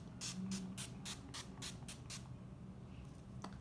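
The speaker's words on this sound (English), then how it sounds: "I'm going to use Urban Decay setting spray" A rapid series of about nine short, bright bursts of Urban Decay makeup setting spray, close and evenly spaced, followed by quiet and one faint final spritz.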